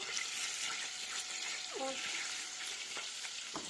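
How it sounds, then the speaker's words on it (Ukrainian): Flour tipped into melted butter in a pan for a roux, a soft continuous sizzle with a few light knocks of stirring, and a voice briefly audible in the background. "Це масло у нас розтопилося, ми зараз сюди висипемо муку."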